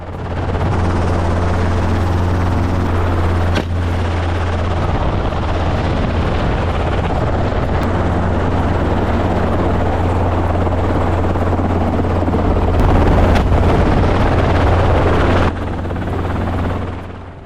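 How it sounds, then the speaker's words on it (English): Aircraft used for wildlife hunting in Spain, a loud continuous helicopter rotor and engine drone lasting the whole stretch, with a few brief sharp bangs and no speech. "Aircraft provide flexible and swift transportation, allowing hunting teams to operate more efficiently."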